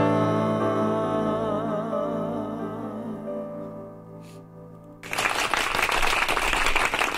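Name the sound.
applause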